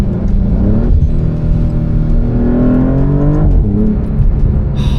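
A 2027 Maserati GranTurismo Trofeo engine revs hard and loud up close, pitch rising and falling as the throttle opens, growling and roaring with no voices.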